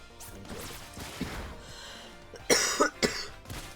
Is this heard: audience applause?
no